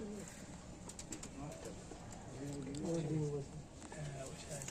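Saharanpuri and Madras pigeons coo softly in low, rolling murmurs close by, with people talking throughout.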